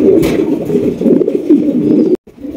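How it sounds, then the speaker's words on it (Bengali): Red Mundi pigeons coo close up in a low, throaty, rolling rhythm, several overlapping calls filling the space with a brief break near the end. "মুন্ডি কবুতর, তাও রেড কালার ভাই"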